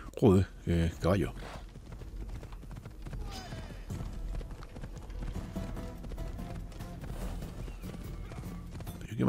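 Horse hooves clip-clop in a quick galloping rhythm in the video game Assassin's Creed Odyssey, with a neigh up front and steady in-game ambience behind, fairly close and continuous.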